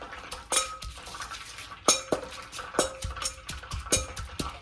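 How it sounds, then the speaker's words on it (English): Papaya salad is mixed with shrimp paste in a bowl, with sharp clinks and knocks of utensils against the dish coming in uneven bursts about once a second, close and fairly quiet. "And mix that really well."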